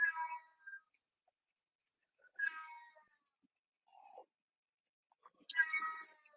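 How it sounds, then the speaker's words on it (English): A house cat meows loudly indoors in three separate drawn-out cries spaced a couple of seconds apart, with a softer short sound between them, in an otherwise quiet room. "My cat is so loud."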